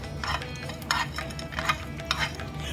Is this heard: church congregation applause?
no